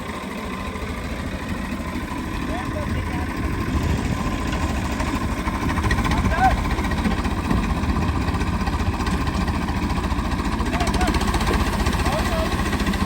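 A tractor's engine drones steadily and evenly as it tows a Scorpio SUV out of mud, rising slightly in loudness midway, with people's voices mixed in.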